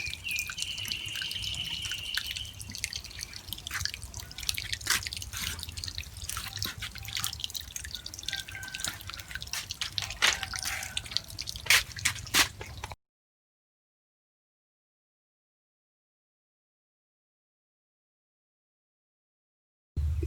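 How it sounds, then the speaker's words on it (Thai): Water is fed into a leaking washing machine, giving close dripping, trickling and squishy splashes for about thirteen seconds before everything falls silent. "ผมลองเอาน้ำเข้าใส่ดู"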